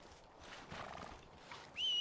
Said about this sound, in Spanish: Ya lo aquí está, el caballo de Buku.